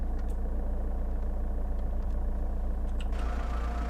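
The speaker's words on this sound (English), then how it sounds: "Let's go ahead and start this engine now." In a flight simulator game, the engine of a Lockheed L-1049 Super Constellation propeller airliner starts up, giving a steady, low, rumbling drone with a fine rapid pulse throughout, and no speech over it.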